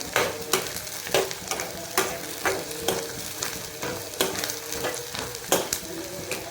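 Onions browning in a pan for a tadka-style tempering, with a continuous close sizzle broken by repeated sharp spatula scrapes and clicks against the pan at a fairly regular pace, no talking.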